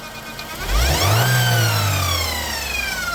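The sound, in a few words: Chevrolet car engine revving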